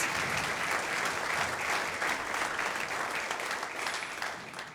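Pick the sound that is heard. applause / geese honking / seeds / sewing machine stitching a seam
applause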